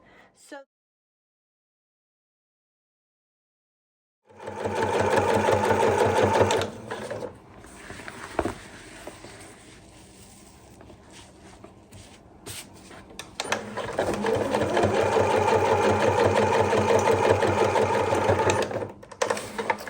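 Sewing machine stitching fabric for an apron, opening after a brief silence with a fast, loud mechanical chatter, dipping to a lighter rhythmic run midway before surging again and stopping near the end.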